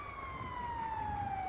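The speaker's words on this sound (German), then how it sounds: "Ich meine, ich hätte auch eine Sirene gehört" Police siren in the video game GTA 5, a steady wailing tone that slowly falls in pitch, continuous and fairly loud over a low rumbling game background.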